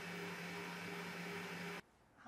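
An electric mixer whips cream with a steady, even motor whir that holds for under two seconds and then cuts off abruptly into near silence.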